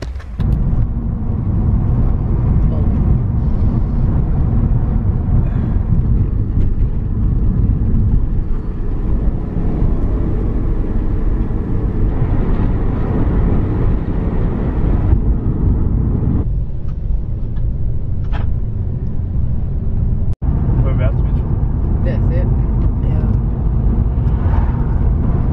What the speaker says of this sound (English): Now we're gonna start driving.